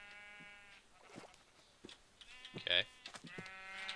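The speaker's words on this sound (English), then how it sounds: "But let's use these sheep here for a second." Sheep bleat in a video game, several harmonic cries spread across a few seconds, one louder near the middle, with someone talking intermittently over them.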